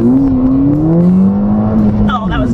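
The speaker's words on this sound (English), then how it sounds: "Lots of wheel spin, but no torque steer, so that's nice." A 2014 Ford Fiesta ST revs hard on a launch, its rising engine drone steady and close with a brief tire chirp near the end, and a voice talks over it.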